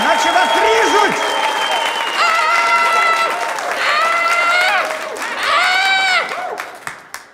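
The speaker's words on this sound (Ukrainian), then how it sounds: "ваші оплески, кричіть так, наче вас ріжуть!" A studio audience at a comedy game show applauds and cheers in loud bursts, with strong sustained tonal voices rising and falling like screams or whoops, separated by brief dips before trailing off.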